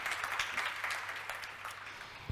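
Brief, quiet clapping from an audience at a cinema science talk, a short scattered burst fading near the end.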